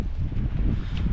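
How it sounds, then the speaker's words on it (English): Gusty wind buffets the microphone in low, uneven rumbles, loud and close, with no voices heard. "God, it's windy."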